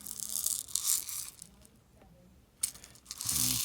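Rubber tape being pulled off a bottle of shot, close crinkly tearing and peeling noises in two bursts separated by a quieter stretch, no talking.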